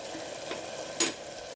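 Vegetables with tomato, peas, carrot and beans sautéing in a pan as chili powder goes in, a steady soft sizzle with a brief louder hiss burst partway through.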